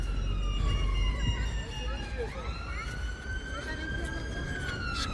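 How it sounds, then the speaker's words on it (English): An ambulance siren wails and sweeps along a city street as it passes, fairly near, over traffic rumble with a voice speaking at times. "there's an ambulance coming along"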